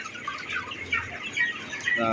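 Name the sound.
chickens in a poultry shed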